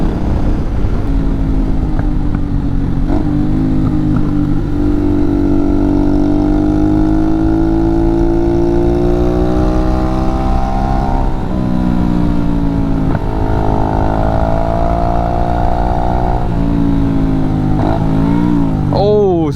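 A Honda Shadow 500 motorcycle engine drones steadily while riding, its pitch rising and falling through gear changes and throttle shifts, loud and close throughout with continuous wind rush.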